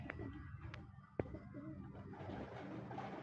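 Pigeons at a pigeon race in Rosario, La Union, giving soft low coos close by amid faint background murmur, with a sharp tap partway through.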